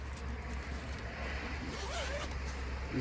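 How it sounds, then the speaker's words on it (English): A zipper runs along a custom leather seat cover in a Mk7 Golf, making a close, steady rasping pull over a low hum of background noise. "Zip it all back down."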